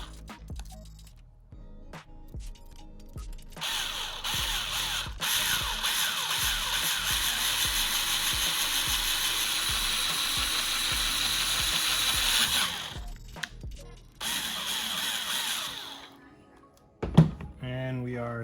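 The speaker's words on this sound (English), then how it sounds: "and then just drill very slowly" A power drill whirs steadily for several seconds at slow speed, drilling a pilot hole in a 2019 Honda CBR600RR fairing, stopping and starting, close up, with a few clicks and knocks around it.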